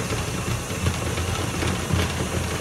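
An electric mixer beats chocolate cupcake batter in a bowl, a steady close motor whir with a rough, slightly rattling texture and faint rhythmic pulses, running continuously with no talking.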